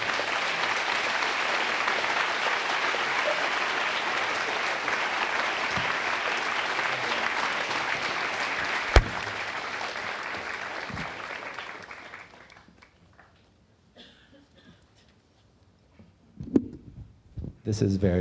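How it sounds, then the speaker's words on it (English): An audience welcomes a film director onto the stage at an interview event with steady, dense applause that holds for about twelve seconds, then fades away into near silence with a few faint stray sounds. "Warm round of applause, please."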